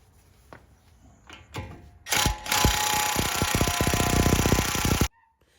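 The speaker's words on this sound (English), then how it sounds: "I've got an electric impact, it'll make it a little easier to get it off." An electric impact wrench hammers at the axle nut of a Lexus GX470 truck, a loud rapid rattling burst lasting about three seconds after a few quiet clunks, then stopping abruptly.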